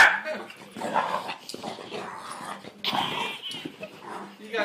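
A dog barks and whimpers restlessly, close and fairly loud, while people talk over it throughout.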